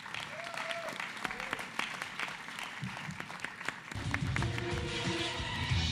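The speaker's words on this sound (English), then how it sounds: "we want to give you one more huge round of applause before our first teams take the stage" Round of applause from a school pitch-night audience, loud scattered claps and cheers in a hall that swell into a fuller, sustained ovation with voices near the end.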